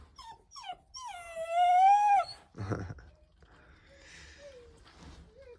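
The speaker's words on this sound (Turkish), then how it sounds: "İnşallah görək yekələnsin də bu dişi köpəkdir" A young female dog whimpers in short rising cries, then lets out a long wavering howl, followed by a few softer whines and yips, close and otherwise quiet.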